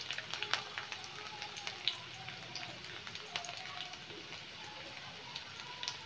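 Chopped garlic sizzles in hot oil with a bay leaf and chopped ginger for Bengali chilli chicken, a soft, steady crackling hiss dotted with faint pops, fairly quiet throughout.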